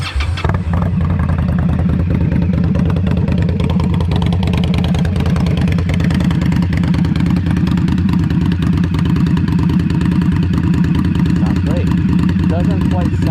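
An Indian Scout Bobber Twenty motorcycle engine runs loud and close, a steady throbbing idle with a deep low rumble that continues unbroken for about thirteen seconds, with someone talking briefly over it.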